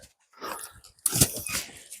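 Dogs romp around during a mushroom-picking trip in the woods, making close, scuffling dog sounds in two short bursts with brief yips and whimpers.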